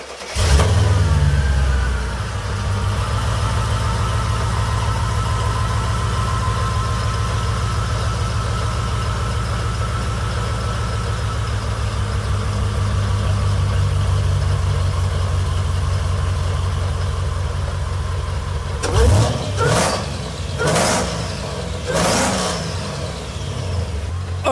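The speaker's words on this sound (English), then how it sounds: "now I want to show you the induction noise" Engine of a car fitted with a cold air intake routed through the headlight, heard with the hood shut: a steady, moderately loud drone running almost the whole time, with a few sharp revving bursts near the end.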